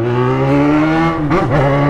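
A motorcycle engine revving close by, a strong steady tone that rises slowly, then dips and wavers briefly before settling again.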